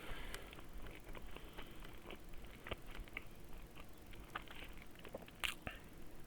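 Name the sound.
chewing while eating sausages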